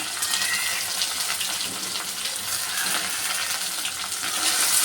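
Two large onions frying in a pan, a dense, bright crackling sizzle that stays steady and close throughout, with no speech over it.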